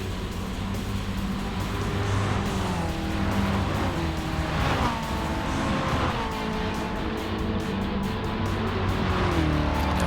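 Small Japanese club race cars racing on a circuit, engines droning and revving together with shifting pitch as they pass close by, a continuous loud pack sound with no talk.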